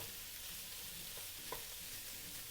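Spring onion stems frying in a pan alongside garlic butter soy prawns, a quiet, even sizzle with a few faint stirring clicks.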